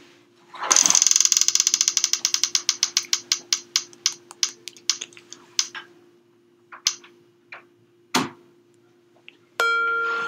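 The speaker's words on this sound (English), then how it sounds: "Let's spin the wheel." A prize wheel spins in a podcast studio and gives a rapid run of sharp clicks that slow down and spread out as it coasts to a stop. A few stray knocks follow, then a sustained chime.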